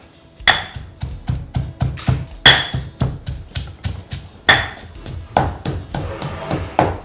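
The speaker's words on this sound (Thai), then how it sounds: "ตำพอหอมนะในนี่เลยครับ กระเทียม" Garlic and dried ingredients pounded in a mortar with a pestle for a Thai holy basil stir-fry, giving steady rhythmic thuds with a few heavier, sharper strikes, close up and without talk.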